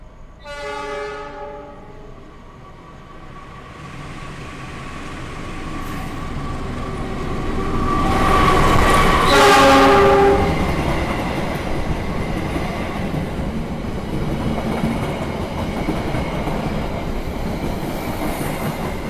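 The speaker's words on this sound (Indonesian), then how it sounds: "Yang akan melintas adalah kereta api Malabar dari stasiun Bandung tujuan stasiun Malang." Malabar passenger train from Bandung to Malang passes close by, a steady rumble swelling to a peak around the middle with a long horn blast near the start and again as it passes, then rolling wheel noise fading.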